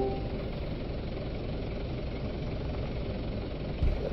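A tank engine in a tank combat video game rumbles as a steady, dense low drone that stays constant throughout, with a brief bump near the end.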